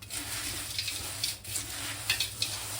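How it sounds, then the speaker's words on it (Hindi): Masala is tossed through thin poha chiwda in a large pot, soft rustling and scraping strokes at an irregular pace over a faint steady hiss, close and fairly quiet. "और इसे अच्छे से मिक्स कर लेंगे।"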